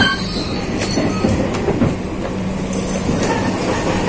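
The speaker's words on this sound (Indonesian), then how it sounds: "Yang tersedia di sebelah kanan ini adalah rangkaian kereta api Cikuray." Cikuray passenger train at Pasar Senen station, a steady rumble of railcars with wheel squeal and clicking over rail joints, loud and close.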